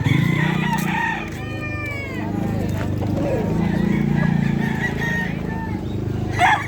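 Roosters crow and chickens cluck at the Bocaue pet market, several birds calling close by over a low crowd murmur, with people talking in the background.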